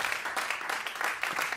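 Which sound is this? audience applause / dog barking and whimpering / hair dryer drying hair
audience applause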